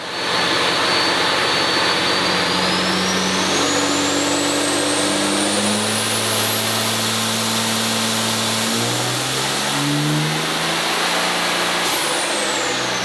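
A big diesel truck engine with a VP44 injection pump roars loudly and continuously on a dyno, revving up through long sustained pulls with a rising whine, no voices.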